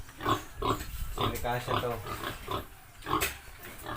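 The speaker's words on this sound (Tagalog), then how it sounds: "So yun mga baboy, tapos na." Pigs grunt and squeal on a rural farm in the Philippines, their calls recurring in short bursts beneath steady nearby Tagalog talk.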